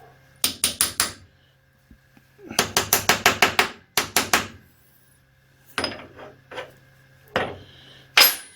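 A small metal tapping stick strikes parts being aligned on an engine stand, heard as quick bursts of four to six sharp taps, then scattered single knocks and a final loud tap, close and clear with no talk.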